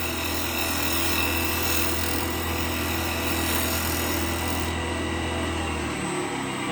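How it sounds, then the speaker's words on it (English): Spalted beech box is scraped on a wood lathe with the edge of a gouge, a steady continuous rasping rub over the lathe's hum that runs the whole time and eases off near the end. "Just here scraping it with the edge of the gouge, just to blend it all in."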